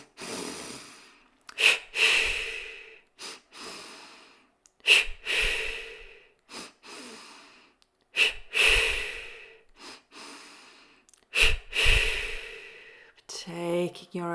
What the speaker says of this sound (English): A warrior breath